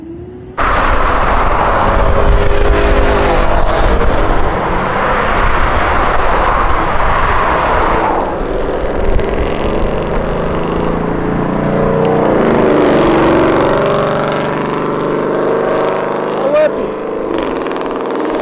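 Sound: car engine revving hard at the rev limiter during street race

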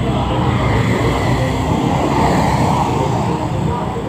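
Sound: tourist bus passing on a street in Sanur, Bali

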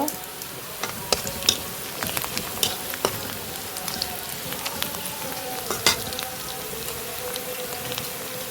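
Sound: panch phoron spices sizzling in hot oil

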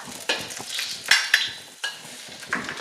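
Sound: garlic stir-frying in a pan

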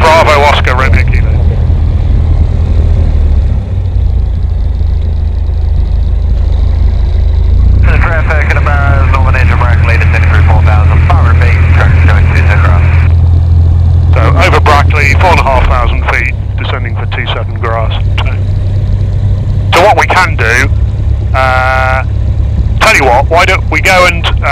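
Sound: light aircraft taxiing to the runway

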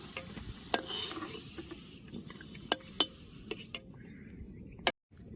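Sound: potatoes being fried and stirred in a pan

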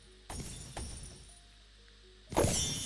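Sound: objects breaking in the video game Pet Simulator X

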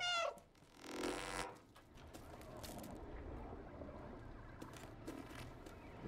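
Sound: cat meowing in the video game Stray

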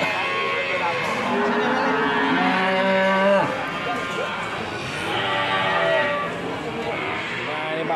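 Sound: cattle mooing at a cattle market

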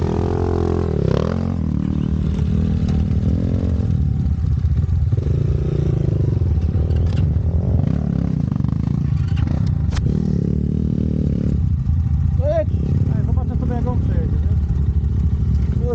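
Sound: Kayo T4 motocross motorcycle engine revving

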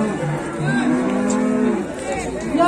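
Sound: female cow at a cattle market

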